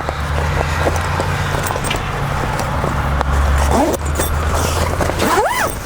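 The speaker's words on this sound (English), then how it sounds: "the wall zips on quite easily" An awning wall is zipped onto a Rhinomax hybrid camper outdoors: a few rasping zipper pulls, close and moderately loud, over steady wind and outdoor background noise.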